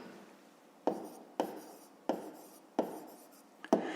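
Handwriting of a math equation, with five or six quiet, evenly spaced pen strokes scratching across paper, each a short rasp roughly every two-thirds of a second, close and soft with no talking.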